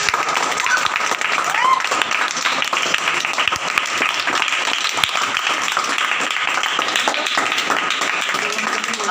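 Audience applause at a live physics demonstration, a steady wash of many hands clapping for the full stretch under a busy crowd murmur, moderately loud and continuous.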